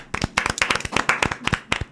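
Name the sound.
audience applause at start of TV program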